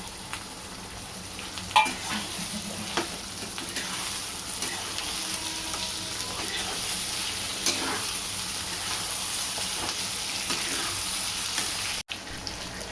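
Tomato slices and ginger-coriander paste fry in a pan for a bombil potato dish, a steady broad sizzle running throughout with occasional stirring scrapes and clinks, close and continuous, one brief dropout near the end.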